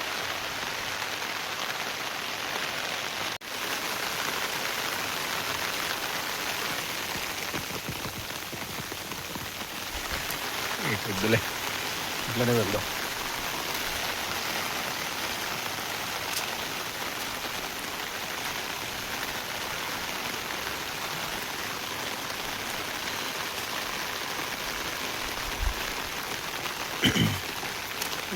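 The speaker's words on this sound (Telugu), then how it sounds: "ఒకటే వర్షం. ఇంకా ఇప్పుడు కొంచెం తక్కువ పడుతుంది." Steady monsoon rain pours nonstop at Bhimashankar in Maharashtra, a dense even hiss of drops filling the whole stretch, with a few brief knocks and a short murmured exchange of voices partway through.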